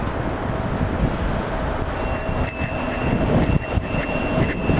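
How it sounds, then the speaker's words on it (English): A bicycle bell rings in a quick run of bright, repeated dings during a bike ride across bridges in Japan, over steady wind and road rumble. "I'm pretty generous with my bell."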